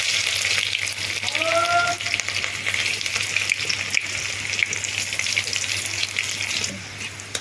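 Crushed garlic frying in hot oil, a loud steady sizzle with bubbling crackle that eases off near the end, heard close with a brief tonal squeak early on.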